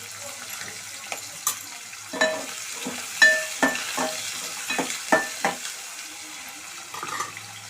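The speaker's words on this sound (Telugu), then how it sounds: "చూడండి, ఇట్లా వేగుతున్నాయి." Onions and green chillies fry in a pan for upma with a steady soft sizzle, broken by about a dozen sharp scraping and clinking stirs at uneven intervals, heard close with no voices.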